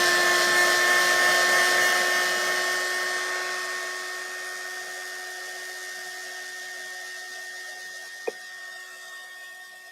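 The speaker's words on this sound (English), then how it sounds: "So let's put our heat lamp on." A heat lamp switched on at a live crafting session blows with a steady broadband whir and several sustained tones, loudest at first and easing slightly, with a single sharp click near the end; no talking.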